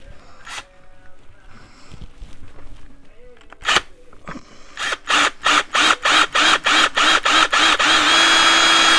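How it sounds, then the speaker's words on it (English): Power drill boring a hole into the seam of a plastic pumpkin bucket, loud and close: a few scattered clicks, then a rapid run of about ten evenly spaced bursts that merge into one steady whirring grind at the end. "I'm going to drill a hole right here"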